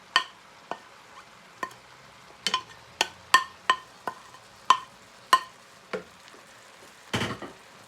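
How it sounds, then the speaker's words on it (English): Garlic and mushrooms being stirred in a frying pan with softened onions: repeated sharp scrapes and clacks of the utensil against the pan over a quiet steady sizzle, close and fairly loud. "Garlic and the mushrooms have just been stirred just for 2-3 minutes."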